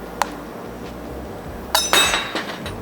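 A small rubber hammer taps a factory preload collar off a 4th-gen Toyota Tacoma lift-kit strut, giving a few sharp metallic clinks, one alone early and a cluster of ringing knocks later, close and distinct.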